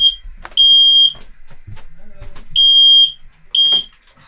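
Smoke alarm on a boat set off while oatcakes cook, shrieking in loud, piercing beeps of about half a second, two early and two later, with brief talk and kitchen clatter between them.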